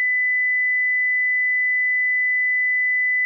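A steady 1,000 hertz sine wave test tone, pure and unwavering at constant loudness for over three seconds, starting and stopping abruptly with nothing else present.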